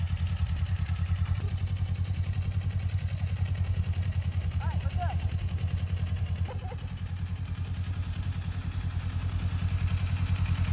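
A motorcycle engine runs at a steady idle-like chug with clattery pulses while a beginner rider eases off the clutch, heard fairly faint, with a few brief squeaky sounds partway through.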